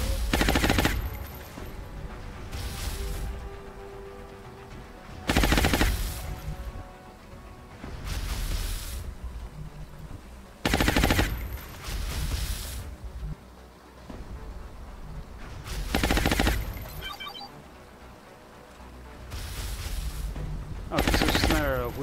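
Suppressive fire in XCOM: Enemy Within, bursts of loud automatic gunfire recurring every few seconds, each roughly half a second long, separated by quieter stretches of game ambience.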